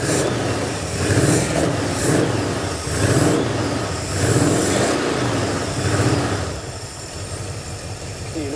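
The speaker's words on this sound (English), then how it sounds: "it sounds like no other V8 because those crossover pipes completely change the tone of the exhaust" V8 engine in a GT40 replica supercar runs with crossover exhaust pipes, idling loudly up close with a series of rhythmic revs rising and falling before settling to a lower idle.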